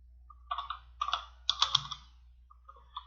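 Keys tapped on a computer keyboard while typing a spreadsheet formula: three quick bursts of close, crisp clicks, then a few softer scattered taps, with no talking.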